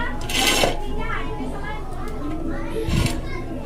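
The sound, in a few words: pots and lids being handled while searching for a lid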